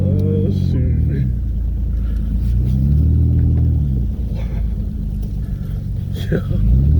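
A $200 Nissan Pathfinder's engine rumbles and revs loudly and steadily as it drives along a tight wooded trail, with pitch rising and falling through changes in throttle, close up and continuous.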